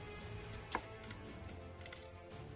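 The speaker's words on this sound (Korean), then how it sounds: "무는 잔뜩 썰어줍니다." A knife slices through radish on a cutting board, giving a few quiet, irregular chopping taps over a faint kitchen background, close but soft.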